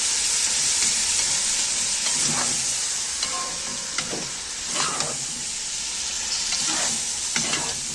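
Loud continuous sizzling of food frying in a pan, with periodic scraping stirs cutting through the hiss.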